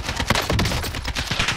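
Rapid bursts of gunfire in a Call of Duty Warzone match, dense overlapping shots crackling steadily through the short stretch, loud and close as the player is being hit.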